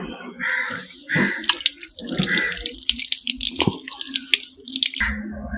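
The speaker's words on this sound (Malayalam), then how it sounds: "നല്ല വൃത്തിയായിട്ട് സോപ്പ് ഉപയോഗിച്ചിട്ട് വെള്ളത്തിലൊന്നും നല്ലതായിട്ട് കഴുകിയെടുക്കണം" Metal papad pricker being washed with soap under a running tap, a steady splash of water into a sink with clinks and drips throughout, close and fairly loud.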